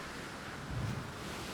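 Sea waves while sailing, a broad continuous rushing wash of water and wind with one slightly heavier surge midway, fairly quiet and steady, no voices over it.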